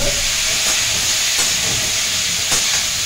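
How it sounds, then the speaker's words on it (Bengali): Vegetables fry with salt and turmeric in a pan, giving a loud, steady hiss and sizzle at close range. A few faint clinks stand out, and there is no talking. "আমি অল্প করে একটু ভেজে নেবো"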